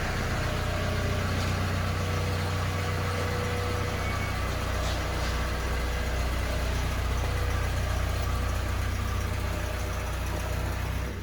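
A 2003 Mazda Miata's engine idles steadily, producing an even, smooth hum that holds unchanged throughout at moderate volume, with no speech.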